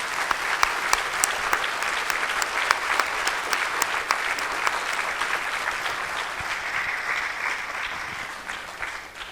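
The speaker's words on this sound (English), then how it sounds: "may I invite all the audience, we give a round of applause for George for his birthday" A forum audience claps for George's birthday in sustained, dense applause that stays loud for several seconds, then begins to thin out toward the end.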